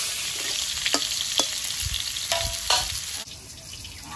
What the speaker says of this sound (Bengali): আলুটা ভাজা হতে লাগুক